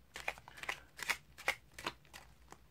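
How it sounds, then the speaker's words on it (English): Playing cards being shuffled and slid off a deck one at a time during a close-up card trick, giving a series of about seven crisp, papery riffles and slides at an even, unhurried rhythm, close and fairly quiet, with no talking. "Shuffle the top card off, slide it onto the bottom of the pack as you slide off the next card"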